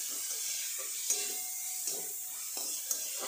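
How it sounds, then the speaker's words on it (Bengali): Chopped onion and capsicum fry in a hot pan, a steady close sizzle broken by a few scraping stirs and light utensil taps. "এটাকেও খুব ভালো করে এটাকে আমি ভাজব।"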